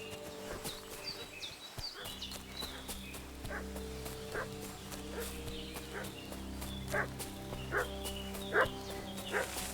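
A dog barks repeatedly and faintly in the distance within a medieval village scene in Kingdom Come: Deliverance II, sharp yaps spaced about a second apart over a low ambient hum.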